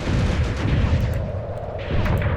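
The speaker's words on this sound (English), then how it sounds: "Keep firing, men. Keep firing." Continuous low rumbling battle din from WWII tank combat in Tunisia, 1943, with steady booming artillery and gunfire blending into a dense, heavy roar throughout.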